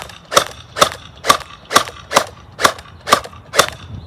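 An LSC toy foam blaster fires on semi-auto, with eight sharp, loud, evenly spaced pops about half a second apart, each shot snapping close by.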